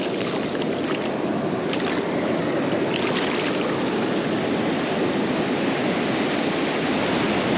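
Surf washes onto a beach in a steady, loud broadband rush of water, with constant surging wash and no pause.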